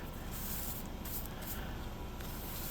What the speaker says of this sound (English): maybe we should spray the paper too